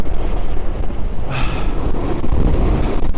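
Wind buffets the microphone while someone rides a board outdoors in gusty conditions, a steady broadband rumble and roar running continuously throughout with a brief hiss near the middle, no talking.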